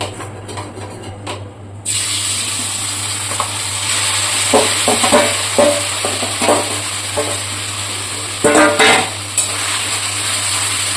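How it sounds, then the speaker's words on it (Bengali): Marinated chicken drops into hot mustard oil in a wok, a loud steady sizzle and hiss with scattered sharp crackles and pops running throughout, close and alone. "এবার এই ম্যারিনেট করা চিকেনটা আমি তেলের মধ্যে দিয়ে দেবো"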